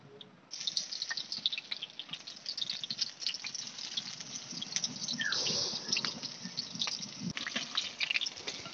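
Soybean chunks coated in pea-lentil (motor dal) paste, dropped one by one into hot oil, fry with a steady close sizzle and fine crackling bubbles that swell partway through, with no talk.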